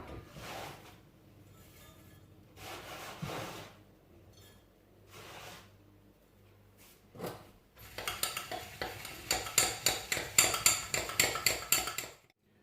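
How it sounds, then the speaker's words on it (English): A spoon scrapes and clinks around a bowl as crushed biscuit crumbs are stirred into melted butter, first in a few separate bursts, then in a quicker rhythmic run of scrapes near the end. "we add the biscuits to the butter and then give that a good stir around"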